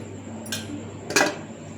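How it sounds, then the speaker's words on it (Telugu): A lid being set on a cooking pot, two quick metallic clinks about half a second apart, the second louder and ringing briefly, over a quiet kitchen hum. "మూత పెట్టింది."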